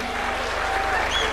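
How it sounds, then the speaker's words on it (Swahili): A crowd at a UDA National Governing Council meeting led by President Ruto claps for new party members, a dense, even wash of applause heard at a distance, with a voice over the sound system underneath. "Tuwapige makofi."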